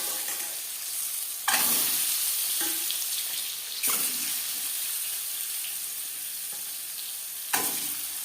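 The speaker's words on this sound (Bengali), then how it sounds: "ডিম ভাজবো" Eggs frying in hot oil with turmeric in a pan over high to medium flame, a steady close sizzle throughout, with a few louder bursts of crackle as they are stirred or turned, with no talking.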